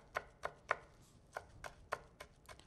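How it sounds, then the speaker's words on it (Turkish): Potatoes chopped with a knife on a cutting board in a kitchen, making a series of sharp, close taps in irregular bursts, with no voices. "Tekrardan minik minik doğruyoruz."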